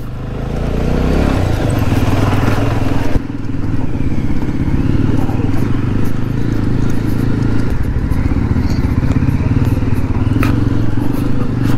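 A motorcycle that is not an off-road bike rumbles steadily along a rough forest road between coffee plantations and woods on the way to Kabbe Hills in Kodagu, its engine loud and close, with clattering and scraping over the uneven surface.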